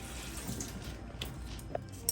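Cold tap water runs continuously as food is washed under it in a kitchen, a soft, even splashing with a few faint drips and small knocks over the flow.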